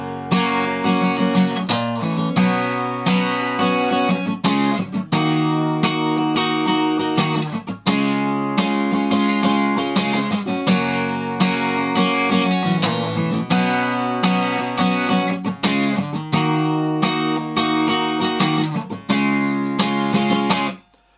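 Acoustic guitar strumming the chorus chords of a song in a steady rhythmic pattern, full and continuous for about twenty seconds with no voice over it.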